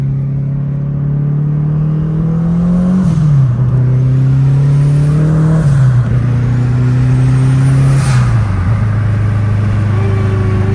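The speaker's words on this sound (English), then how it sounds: "we're taking the Civic on a test drive in second gear" Turbocharged Honda Civic EP3 with a twin-disk clutch pulling hard in second gear on a test drive, a loud in-cabin engine drone rising in pitch and dipping at shifts or lifts three times.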